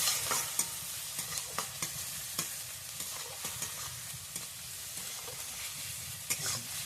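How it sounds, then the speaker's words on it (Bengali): Chopped green chili, carrot and tomato frying with salt, a steady close sizzle broken by repeated scraping stirs of a spatula, with no voices. "আমি ভালো করে ভেজে নেব।"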